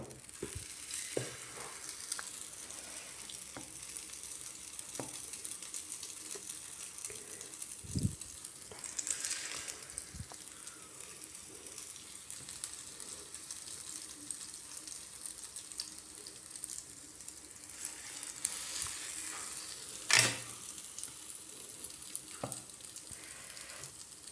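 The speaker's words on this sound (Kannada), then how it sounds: "ಇವಾಗ ಒಂದು ಸೈಡ್ ಫ್ರೈ ಆಗಲಿ" Egg-dipped bread frying in oil on a hot tawa, a faint steady sizzle with scattered soft pops and an occasional scrape, heard close but quiet for the whole stretch.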